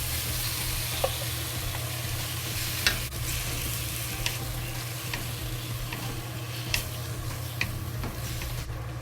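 Chopped tomato fries with leek in a pan as the base for a tomato, egg and dumpling soup: a close, even sizzle runs throughout, with a few sharp taps and scrapes of a utensil and no speech.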